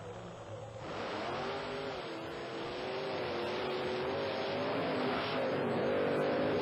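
Monster trucks Gravedigger, a 1950 Chevy panel wagon, and King Kong, a Ford with Chevrolet power, race side by side, producing a sustained loud engine roar that builds and rises in pitch, heard from a distance with crowd noise beneath.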